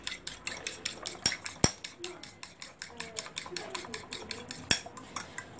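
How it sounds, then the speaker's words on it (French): Eggs beaten in a bowl for a semolina raisin cake, rapid regular clinks of a utensil against the bowl in a steady rhythm, close and fairly quiet with no talk. "Un peu les mélanger en omelette."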